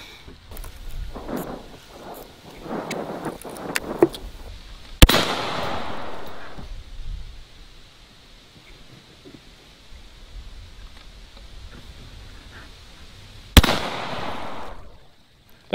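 A Zeus 12 gauge shotgun fires two loud, sharp blasts several seconds apart, each trailing a rolling echo. Faint scattered outdoor noises come before them and a quiet stretch lies between.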